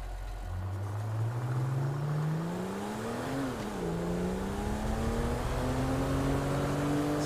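A car drives in Grand Theft Auto V, its engine droning close and steady, rising in pitch as it accelerates, dipping briefly with a gear change, then climbing again.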